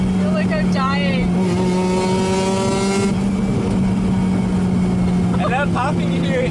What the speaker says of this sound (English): That popping you hear is gas exploding in the exhaust.